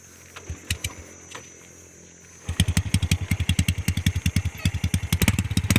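A Honda Wave 110i motorcycle engine idles unevenly, then revs hard in a rapid series of loud, throaty bursts through the exhaust, close by.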